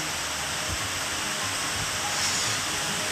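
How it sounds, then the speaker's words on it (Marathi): Dam spillway water pours into the Aarda river with a steady, dense roaring rush that holds at an even loudness throughout. "सांडव्यावरून आरडा नदीपात्रात विसर्ग सुरू आहे"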